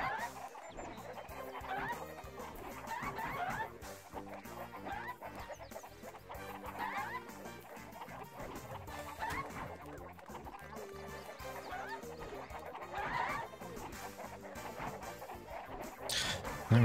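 Chickens cluck in the Far Far Away level of the Shrek 2 PS2 video game, with repeated short clucks over a dense, continuous game music and effects bed.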